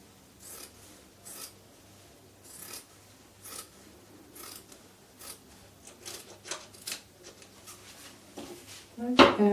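Scissors snipping through fabric while draping a bow top, a series of short crisp cuts spaced out irregularly at close range, with a louder rustle of handled cloth near the end.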